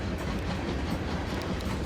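Trains running in Transport Fever 2, a steady dense rumble of rolling rail wagons with faint clickety-clack, continuous and moderately loud, with no voices.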